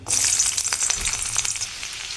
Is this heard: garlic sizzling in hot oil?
yes